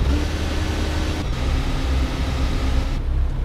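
Ford Cargo 3238 truck engine straining as it climbs a steep ramp on a mountain road, a steady loud low drone with a continuous rumble, no voices.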